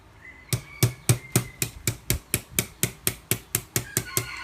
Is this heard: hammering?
yes